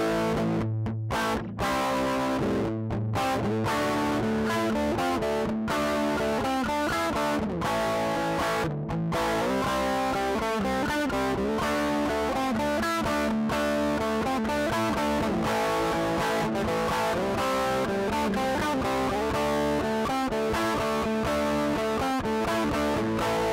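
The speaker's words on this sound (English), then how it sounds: "Now we'll do some distortion pedal." An electric guitar plays through a DOD FX distortion pedal on a PRC-6 pedal board, giving a loud, continuous driven tone with rhythmic chords and riffs broken by a few short pauses early on.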